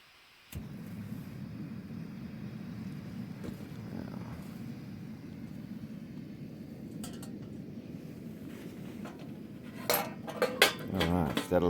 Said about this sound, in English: Time to light the stove and put the kettle on for coffee.